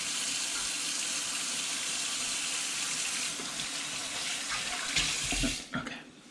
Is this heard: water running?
yes